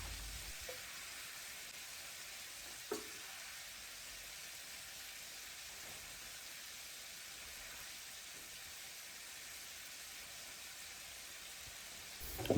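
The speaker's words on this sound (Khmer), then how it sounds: "នៅពេលដែលវាកំពុងតែក្តៅពុះហ្នឹងគឺយើងកូរវាបន្តិច ដើម្បីកុំឲ្យវាខ្លោចបាតឆ្នាំង" Stir-fried snails with bitter melon bubble in a pot, giving a steady, faint sizzle with a soft stir or clink now and then and no voices.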